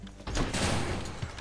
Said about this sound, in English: That's reloading.